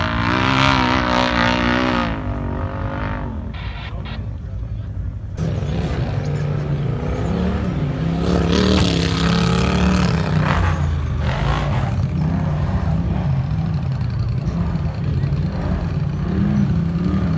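A UTV race machine at King of the Hammers 2019 revs hard while struggling up a steep rocky hill, its engine roaring loud and rising in repeated bursts, with spectators talking and shouting nearby.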